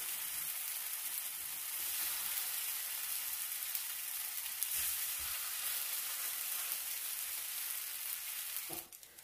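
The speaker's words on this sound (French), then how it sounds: "m'assurer de bien les faire griller des deux côtés" Crepes sizzle and fry in a pan, grilled on both sides, with a faint continuous crackling hiss throughout and a brief clatter right at the end.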